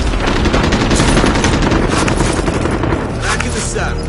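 Rapid automatic gunfire in a military video game, dense and loud, with continuous bursts and booms packed throughout the few seconds.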